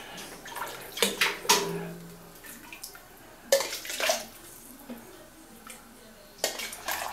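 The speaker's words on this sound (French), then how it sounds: "on va remettre un peu de bouillon." Broth poured from a measuring jug into a pot of chili con carne, several short splashing pours separated by pauses, close and fairly quiet.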